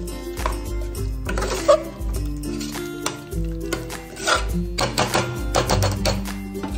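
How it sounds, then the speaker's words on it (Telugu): Mutton pieces stirred with ginger garlic onion masala in a pan for a mutton drumstick curry, giving steady scraping and clattering of the spoon against the pan under background music. "మటన్ పీసెస్ వేసేసిన తర్వాత చాలా బాగా మిక్స్ చేస్తూ ఉండండి"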